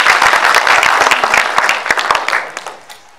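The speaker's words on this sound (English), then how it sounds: "A round of applause for him." An audience claps for the first speaker at an education conference on the Fourth Industrial Revolution. The applause is dense and fairly loud, then thins into scattered claps and fades toward the end.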